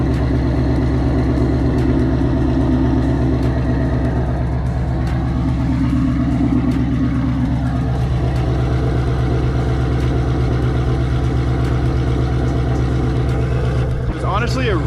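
A straight-piped Ford Mustang GT V8 idles in normal mode, a steady, deep burbling rumble held for the whole stretch, with a brief rise near the end.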